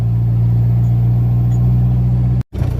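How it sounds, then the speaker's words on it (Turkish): A loaded produce truck's engine drones low and steady from inside the cab while driving over badly broken roads, a loud, constant rumble with a sudden brief dropout near the end. "Gördüğünüz gibi kamyonumuzla"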